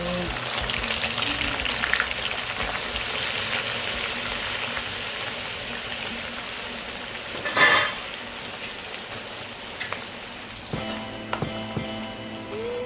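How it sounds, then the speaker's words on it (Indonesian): Small anchovies (ikan teri) fry in hot oil, a continuous crackling sizzle with bursts of stirring and a brief louder splash partway through, heard close up without talk. "Ini minyaknya udah panas ya, kita goreng dulu ikan terinya ya."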